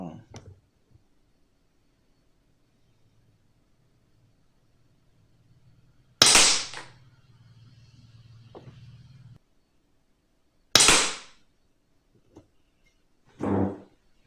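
Air pistol shots fired with JSB diabolo pellets during a pellet test: three sharp, loud cracks stand apart in near silence, the first followed by a low lingering hum.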